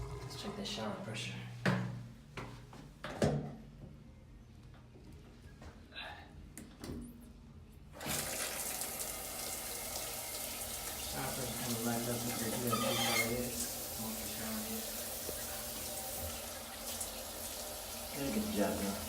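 A truck stop shower at a Pilot in Richfield, Ohio, turns on partway through, giving a steady, loud hiss of spray that runs on after a few earlier clunks and taps, with some talk in the room.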